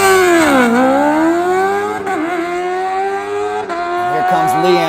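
A junior drag racing motorcycle screams down the strip, its loud engine note climbing through the gears with brief dips at each shift, close and dominant for the whole stretch.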